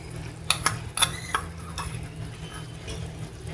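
A spoon clinks and scrapes against a pan as fresh milk cream is spooned into ghee for a roasted-gram Mysore pak. A few sharp taps come early, then a quieter scraping and a faint sizzle.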